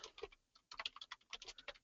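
Quiet, close typing on a computer keyboard as a layer name is entered: a short burst of keystrokes, a brief pause, then a longer run of rapid, irregular key clicks.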